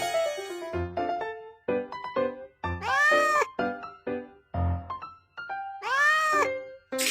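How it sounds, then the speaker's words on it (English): A cat meows several times, mixing short chirping calls with two longer, rising and falling drawn-out meows, close and clear with no voices. "Cat."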